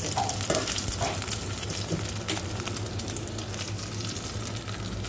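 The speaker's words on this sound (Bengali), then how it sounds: "অনেক দিন পর আমি ডিম ভাজছি" An egg sizzles and crackles in a hot pan, with occasional scraping clicks of a utensil over the steady fry.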